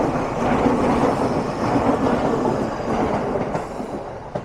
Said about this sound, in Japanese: 南武線来ましたね。 南武線の快速列車です。